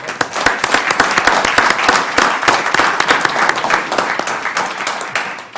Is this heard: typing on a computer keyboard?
no